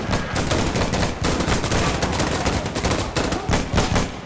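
Sustained gunfire in the video game Insurgency Sandstorm on Xbox Series X: dense, loud bursts of rapid automatic shots rattling almost continuously, without speech.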